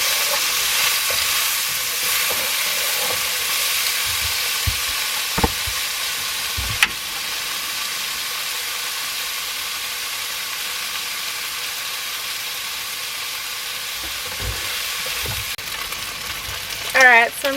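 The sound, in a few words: frying bacon, red onion and cherry tomatoes in pan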